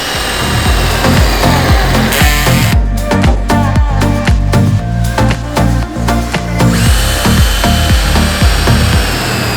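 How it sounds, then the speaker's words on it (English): A jigsaw with a fine-tooth blade cutting a window opening through the sheet-metal side of a Peugeot Boxer van: a loud, continuous buzzing saw with rapid rattling strokes, heard over a steady rhythmic backing beat. "that's where you're going to put your saw in to start cutting across your window"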